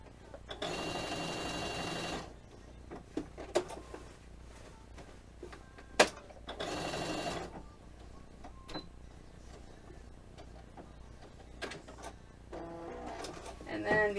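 A sewing machine stitching GameCube logo letters runs in two distinct bursts of steady motor whirr, each about one to two seconds long, separated by quieter handling clicks and faint room noise.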